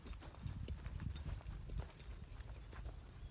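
A horse's hooves step softly and irregularly as it is moved around in a circle on the ground. The footfalls are quiet and somewhat distant against low background noise.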